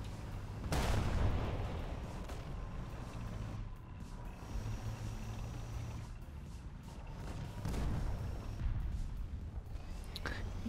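A Hungarian Leopard 2A7HU tank fires in the video game War Thunder: two heavy cannon booms several seconds apart over a constant engine rumble, with no talking.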